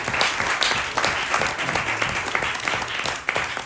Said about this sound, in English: Round of applause for our readers tonight.